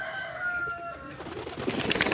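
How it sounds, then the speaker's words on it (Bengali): Pigeons on a rooftop loft after several days of rain, heard as soft, low cooing and bird calls over a steady, slightly noisy background that grows busier toward the end. "মাশাআল্লাহ, আমার কবুতর"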